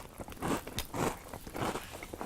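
Crunching and chewing of Kellogg's Peeps cereal in milk, a run of close, wet, crackling bites in an uneven rhythm with no talk.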